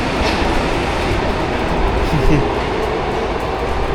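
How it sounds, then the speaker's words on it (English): A train departs a station in Japan, rumbling steadily with rolling wheel clatter and a brief metallic squeal, heard up close on the platform. "I just missed the train."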